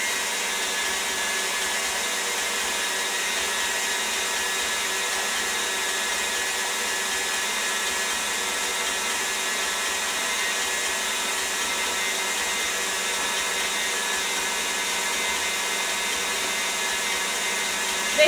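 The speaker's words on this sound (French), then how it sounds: "Donc on va fouetter jusqu'à ça double de volume." Electric whisk beating génoise sponge cake batter, a steady continuous motor whir that holds the same level throughout, close and alone with no talking.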